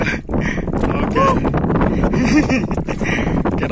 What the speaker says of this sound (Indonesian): Keras angin di sebelah,